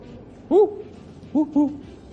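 A human voice imitates an owl's hoot, one call followed by two quicker hoots, close and clear against a quiet background.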